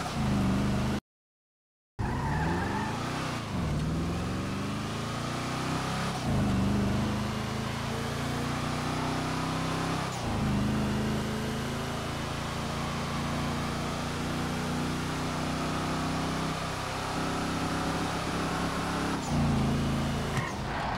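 Engine of a Vapid Chino Custom muscle car in a video game, a steady loud rumble that surges and drops with each gear change and throttle shift, running continuously apart from one brief cut.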